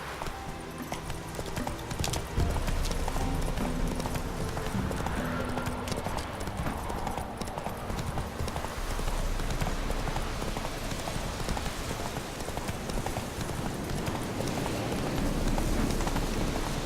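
Roach, Geralt's horse in the video game The Witcher 3: Wild Hunt, gallops with rapid, steady hoofbeats close by, a continuous drumming clip-clop lasting throughout over a busy game soundscape.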